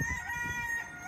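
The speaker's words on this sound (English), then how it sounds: "The chickens are also enjoying a few apples that have fallen to the ground." Chickens cluck and crow steadily on a farm while pecking at apples fallen to the ground, with a few louder calls and no talking.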